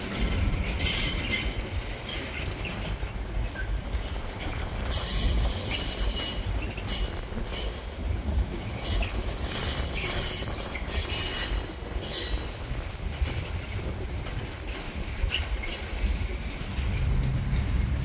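A train rolls through a station platform at Leicester with a steady loud rumble, and high metallic wheel squeals ring out in drawn-out tones over the continuous noise.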